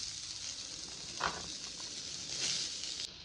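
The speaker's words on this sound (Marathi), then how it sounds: "आता कांदा भाजून घेते" Onions frying in a pan give a soft, steady sizzle with a brief louder crackle partway through. The sound is close and continuous, with no talking.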